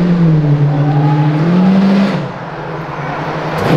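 A gold Lamborghini revs hard as it accelerates along Avenida Europa, a loud rising engine roar with climbing pitch that peaks, drops off as it shifts, then builds again close by.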